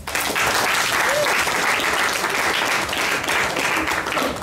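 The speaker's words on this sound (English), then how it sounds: "Let's give her a round of applause." Loud, dense audience applause fills a conference hall at a Ghana repatriation and investment conference, a steady wash of many hands clapping with no break throughout.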